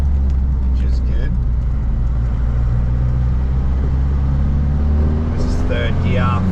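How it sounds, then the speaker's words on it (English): A TF Holden Rodeo with a front-mount intercooler and custom intake plenum drones steadily while accelerating at full throttle in third gear, its engine loud and close from inside the cab, with a voice speaking over it. "This is third gear, foot flat."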